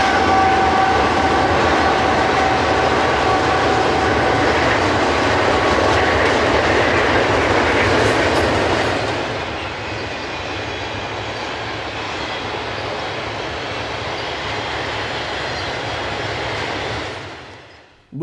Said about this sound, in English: a mainline freight train go by, like this one here that actually had some pretty old twin stack well cars